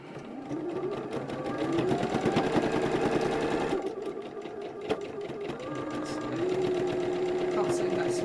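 A sewing machine stitching steadily with a rapid, rattling mechanical rhythm and some odd knocking noises, running close and loud almost throughout while a person talks over it.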